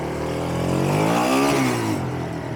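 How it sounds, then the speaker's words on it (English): A 1997 Kawasaki Mojave KSF250 ATV engine revs loudly up to a peak and then eases back down. The single rise and fall is heard close and in the open air, with no voices over it. "Motor is super healthy, plenty of torque. Great throttle response."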